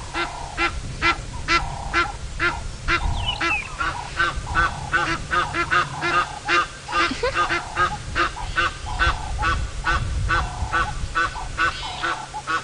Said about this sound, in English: these geese are always so loud